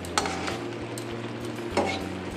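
Pointed gourd (potol) being sautéed and stirred in a pan for Bengali doi potol, a steady low sizzle with a couple of scraping stirs of a spoon against the pan, close and alone.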